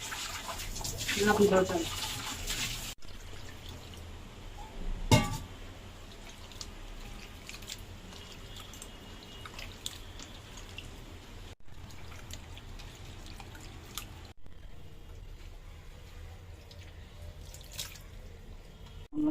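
Fish being washed in water at a kitchen sink: splashing and dripping, loudest at the start with a burst of running water, then quieter trickles and clinks under a woman's speech.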